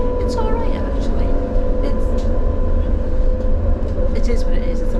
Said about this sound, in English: we've been on the tram for over an hour